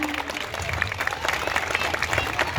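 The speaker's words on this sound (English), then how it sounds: "give a big round of applause for everyone" A large audience at a school's annual sports day applauds, a steady roar of many hands clapping with crowd noise mixed in, loud and continuous across the whole stretch.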